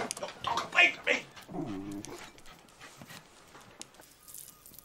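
A dog gives a few short, quiet barks or whimpers near the start during a comedy drama scene, followed by faint rustling and low background noise.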